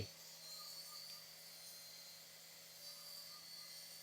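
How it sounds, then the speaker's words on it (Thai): Small remote-controlled toy helicopter flying indoors, giving a steady, even electric whir with a constant high whine from its tiny rotor motor, close by and uninterrupted throughout, with no talking. "เป็นเฮลิคอปเตอร์บังคับ นะครับผมราคาไม่แรงด้วยนะครับผมบังคับได้นะครับสมจริงเลย"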